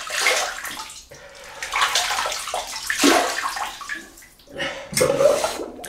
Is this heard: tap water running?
yes